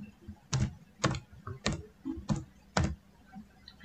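Five distinct keystroke bursts on a computer keyboard while text is entered into Microsoft Excel, spaced roughly half a second apart, close and crisp against a quiet background, with no talking.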